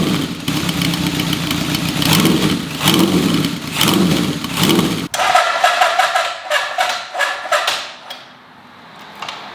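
Honda CB750 motorcycle engine on a cold start, running loud and rough for about five seconds, then dropping to a quieter, uneven idle that fades toward the end.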